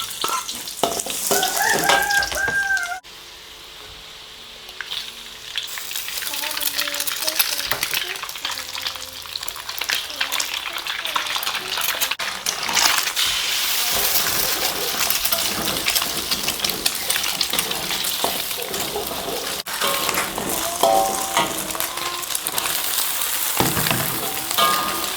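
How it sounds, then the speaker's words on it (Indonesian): Garlic and shallots fry in hot oil already used for cooking eggs, giving a steady, close sizzle broken by stirring scrapes and clinks, with no talking. "dan ini bawang putih, bawang merah. Minyaknya udah panas"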